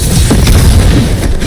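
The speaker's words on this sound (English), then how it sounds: "They've got mortars!" A mortar explosion in the fantasy game Dragon Age: The Veilguard, heard as a loud, continuous rumbling boom that fills the whole moment with heavy low-end roar and no pause.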